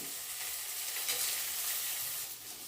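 Dried red chillies, fenugreek seeds, cumin and black peppercorns frying in a pan for horse gram bassaru, giving a steady close sizzle with soft hissing throughout, no voices.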